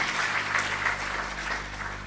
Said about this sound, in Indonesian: Tepuk tangan yang lebih meriah bagi Tuhan.